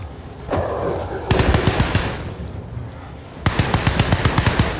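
Gunfire in the horror video game Alone in the Dark: rapid bursts of sharp shots in two runs of repeated reports, with game ambience and effects between them.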